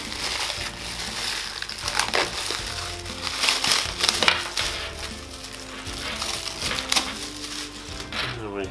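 Crinkling and crushing of plastic and cardboard as the packaging of a Patriot Viper V370 RGB 7.1 USB gaming headset is undone, a steady close rustle with sharper crackles throughout.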